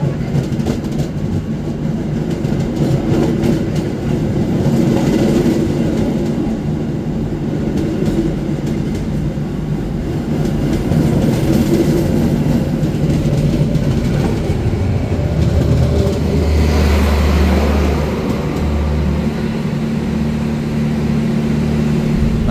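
The KA Madiun Jaya economy train runs after leaving Jatinegara station, heard from inside as a continuous loud rumble with faint wheel rhythm and a low droning tone rising toward the end.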